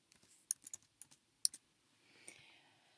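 Keys on a computer keyboard are typed in short bursts of sharp clicks, about a dozen taps over a few seconds, close and fairly quiet against a silent room, followed by a soft rustle.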